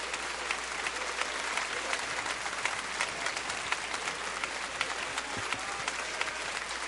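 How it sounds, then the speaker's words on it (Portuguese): Audience applause at a church service, steady dense clapping from a large crowd throughout, fairly distant and even, with no clear voices on top. "Vamos dar a ele um grande aplauso de agradecimento."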